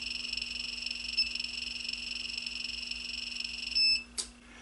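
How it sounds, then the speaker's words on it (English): A servo tester's steady high electronic tones hum along while setting up an RC wing's elevon servo, then a short sharp beep rings out near the end, followed by a brief click. "we hear a beep for the center of the travel"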